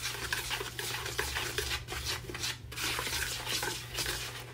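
Dry cornbread ingredients for sweet potato corn bread being whisked in a bowl, a steady close rustling scrape that keeps up without a break over low hum.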